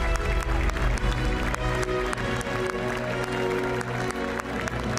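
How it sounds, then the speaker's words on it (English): An audience in Amsterdam at the Gran Turismo World Finals Nations Cup Grand Final applauds the champion's medal presentation. Dense, sustained clapping and crowd noise fill the clip, loud and continuous. "Kazunori Yamauchi, to a rapturous applause here in Amsterdam"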